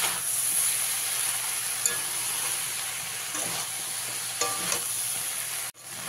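Pumpkin greens and vegetables sizzle and are stirred in a pan, a steady close frying hiss with a few scraping stir sounds and a brief clatter near the end, no speech.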